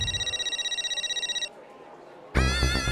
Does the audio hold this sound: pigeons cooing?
no